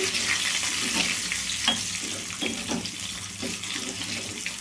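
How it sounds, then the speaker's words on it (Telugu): Garlic, curry leaves and asafoetida fry in hot oil as tempering for a Tamil Nadu style tiffin sambar, giving a steady, close sizzle with soft, repeated stirring scrapes and no talking. "వీటిని అన్నిట్లయితే వేయించేసుకోవాలండి"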